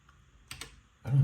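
Keys on a mechanical keyboard clack in a few quick presses, a close double tap followed by a louder burst of typing, with no talk over it.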